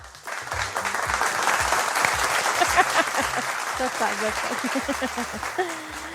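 A studio audience at a Kurdish quiz and prize show breaks into sustained applause, a dense, fairly loud wash of clapping lasting several seconds, with voices talking and calling out over it.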